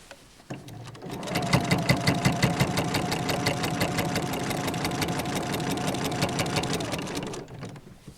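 A sewing machine stitching a fabric advent calendar runs steadily for about seven seconds, its fast even needle rhythm close and clear after a brief start, then stops.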